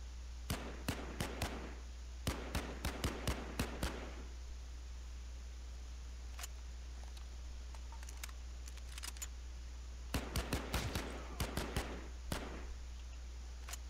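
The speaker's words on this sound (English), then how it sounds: "who's shooting at me?" Sharp, sparse gunshots from a battle-royale style video game ring out in clusters of single cracks, some nearer and some distant, over a steady low hum, with long quiet gaps between bursts.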